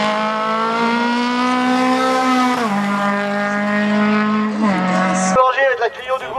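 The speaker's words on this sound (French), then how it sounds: "Et c'est Gilles-Marie avec une Clio" Renault Clio race car at a hill climb race in Gavray, its engine howling close by as it climbs through gears, with pitch rising then dropping at each shift, ending in a sharp upshift and fading bursts under an announcer's commentary.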